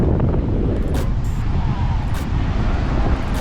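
Strong wind buffets the microphone on Legian beach in Bali, a loud, continuous roar of gusting air with surf noise underneath, steady throughout with a few brief higher bursts.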